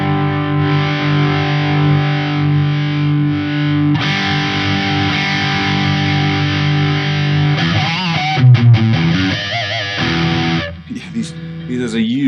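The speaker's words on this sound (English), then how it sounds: "let's check out more metal tones with the Strat." A Stratocaster electric guitar played through a Marshall ShredMaster distortion pedal, heavy sustained metal chords with a big low end, then choppy palm-muted stabs and a few scraped notes near the end, loud and alone.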